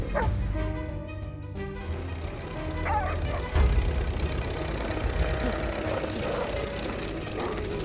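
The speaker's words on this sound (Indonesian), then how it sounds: "meminta si Asu menggonggong guna mengalihkan perhatian si Peter" A dog barks several times against a low engine hum, the yaps mixed with some whining and background commotion.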